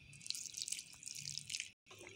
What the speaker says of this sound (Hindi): 1/2 कप गर्म पानी ऐड करना है